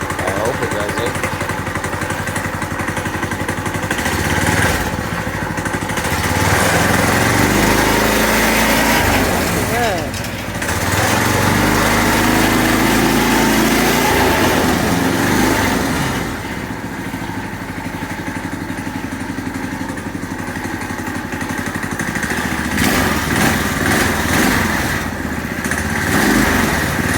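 A Heald SST supertrike's engine running close by, a rough, fluctuating motorcycle-style drone that revs up and eases back several times, with people talking over it.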